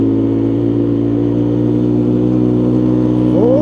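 An old three-wheeler's engine revs hard at full throttle, a steady loud drone with a rising pitch sweep near the end, close and alone.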